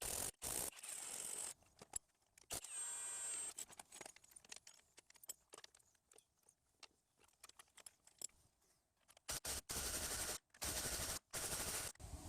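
Impact wrench torquing down a strut shaft nut during Honda Accord suspension work, several loud sharp rattling bursts, short at first and then longer repeated blasts, separated by quiet gaps.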